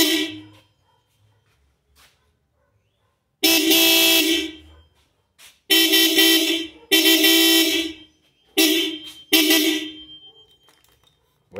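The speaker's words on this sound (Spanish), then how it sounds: "aquí quedaron ya instalados los pitos. Ahora vamos a hacer la prueba definitiva." Aftermarket generic horns fitted to a classic Yamaha RX100 motorcycle blare in five loud, close bursts of varying length, separated by silent gaps.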